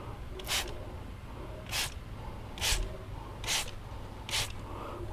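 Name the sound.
spraying Gyeon Iron wheel cleaner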